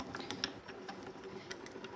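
A hand-cranked craft die-cutting machine rolling plates through, giving a faint, steady mechanical whir with soft rhythmic clicks and creaks.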